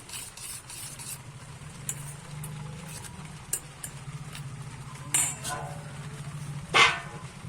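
A utensil beats chicken mince and egg mixture in a bowl, giving a steady rhythmic scraping and clinking against the bowl, with a few sharper metallic knocks near the end.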